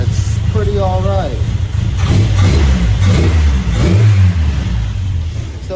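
A 1987 pickup truck engine runs just after a tune-up, a low steady rumble with a few rising revs, close and loud while someone talks over it.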